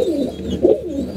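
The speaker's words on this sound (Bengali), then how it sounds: "আমার টাল কবুতরটা দেখেন" A Tal pigeon kept in a home loft gives soft, low, throaty coos in two rolling phrases, close by and alone.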